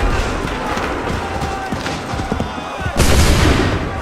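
A musket volley in the Assassin's Creed 3 PC game erupts as one loud, sudden massed blast near the end, following a steady din of distant battle noise.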